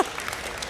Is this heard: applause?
yes